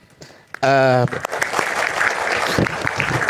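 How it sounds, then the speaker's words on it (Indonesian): Studio audience at an Indonesian live televised case-hearing debate applauds loudly and steadily for about three seconds after a brief tonal burst, with scattered voices underneath. "Ya, boleh tepuk tangan."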